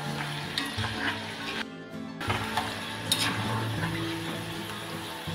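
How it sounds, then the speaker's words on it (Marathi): Peanuts frying in hot oil for chivda, a steady close sizzle with scattered crackles and pops, briefly broken by a short gap before the bubbling resumes. "शेंगदाणे आपल्याला फुटायला लागलेले आहेत, म्हणजे आपले शेंगदाणे आता होत आलेले आहेत."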